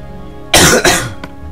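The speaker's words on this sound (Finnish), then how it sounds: "Ai siinä yskitäänkö?" Coughing from a person playing Minecraft on PS3: a sharp burst of two quick coughs close to the microphone, then a brief fainter catch, over a quiet background hum.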